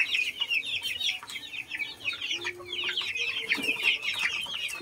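Chicks and hens in a pullet pen on a farm, a constant chorus of high peeping chirps layered with lower clucks and murmurs, close and busy throughout with no talking.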